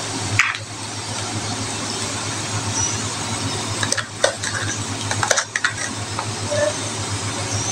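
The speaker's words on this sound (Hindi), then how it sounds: "ये देखिए मसाला हमने पकाना है अच्छे से।" Masala being fried in a pan while cumin and spices cook for a moong chana dish, with a steady sizzle underneath, occasional stirring scrapes and utensil clinks against the pan, and no talking.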